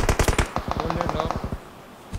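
Rapid automatic gunfire in a battle royale shooter during a tournament match, a loud close burst of fast repeated shots lasting about a second and a half before fading into quieter game ambience.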